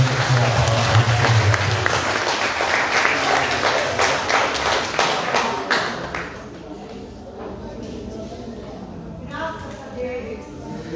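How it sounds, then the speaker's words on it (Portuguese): Loud applause from a church congregation, dense and sustained for several seconds before fading, with a voice starting to speak as the clapping dies away. "uma salva de palmas"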